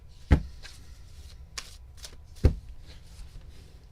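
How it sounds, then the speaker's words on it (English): A tarot deck being shuffled during a reading, soft papery riffles and taps with two sharper thumps as the cards are knocked together, close and quiet with no talking. "let me do a cleansing shuffle for you here"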